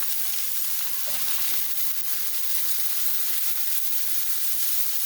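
Venison steaks browning in a pan sizzle and fry steadily right after being flipped, a dense, even hiss with no talk.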